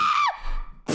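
A woman's high scream with a sliding, falling pitch lasts about a third of a second, followed by quieter noise and then a loud burst of sound at the end, amid New Year celebrations.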